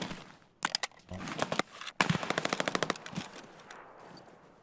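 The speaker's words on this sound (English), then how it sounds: "Shoot the wall. See the impact." Rapid automatic gunfire in Escape From Tarkov strikes a wall, loud close bursts of shots in quick rhythmic succession with short pauses between volleys.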